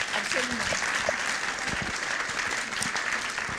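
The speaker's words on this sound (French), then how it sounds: "il faut quand même l'applaudir" An audience at a film screening of Frankenstein applauds in continuous, fairly even clapping, with people talking faintly underneath the steady patter throughout.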